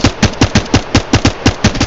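Rapid automatic gunfire in Apex Legends, about a dozen evenly spaced sharp shots in a quick loud burst, close up and alone.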